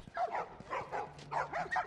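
Several dogs bark in short repeated bursts in The Last of Us video game, a lively cluster of yips and barks spread across the moment, fairly close and with no talk over them.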